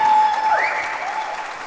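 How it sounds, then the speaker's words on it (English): A conference audience applauds in a hall, a brief, steady burst of many hands clapping with a thin tonal whistle-like sweep audible over the crowd. "Round of applause."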